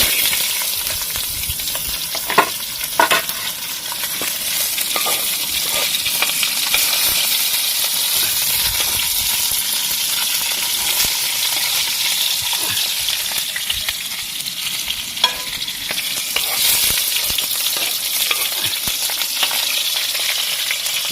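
Eggplant sizzles as it fries in a pan, giving a continuous loud hiss with occasional clinks and stirring noises throughout, and no one speaks.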